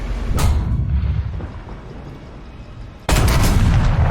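Two heavy tank cannon blasts in the video game War Thunder, about three seconds apart, each a sudden booming crack over a continuous low engine rumble.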